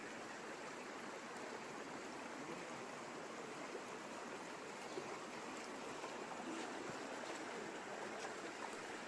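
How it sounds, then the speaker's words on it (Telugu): Waterfall hidden among forested hills of the Eastern Ghats, a steady, even rush of falling water heard from some distance, unbroken and fairly faint with no voices. "తూర్పు కనుమల కొండల మధ్య దాగి ఉన్న ఈ జలపాతం ప్రకృతి ప్రేమికులకు ఒక స్వర్గం లాంటిది."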